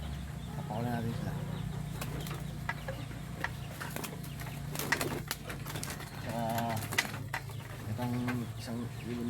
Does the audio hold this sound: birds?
yes